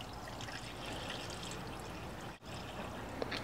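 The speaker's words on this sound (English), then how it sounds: "I'm gonna add ZEREX Super Radiator Flush" ZEREX Super Radiator Flush poured into the radiator of a Dodge Caravan, a steady, close stream of liquid gurgling and splashing for several seconds with a brief interruption midway and no talking.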